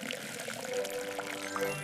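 Water poured onto an old boot planted with sunflower seeds, making a steady splashing trickle throughout, with no talking.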